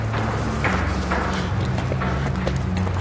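Horse hooves clip-clop steadily on a hard street in a period drama scene, a close, continuous rhythmic clatter over low background music.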